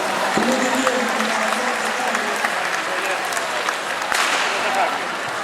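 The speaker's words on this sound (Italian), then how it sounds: "un grosso applauso alla Sant'Anna" At an outdoor grape festival, a crowd applauds a passing group, broad continuous clapping mixed with festive crowd noise and a brief sharp knock partway through.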